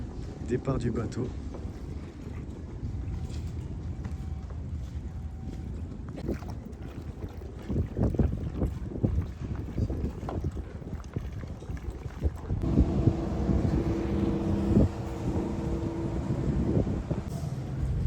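A tour boat pulls away from the dock at Pearl Harbor, its low engine rumble steady under wind buffeting the microphone, with the drone deepening and growing louder toward the end as people talk faintly nearby.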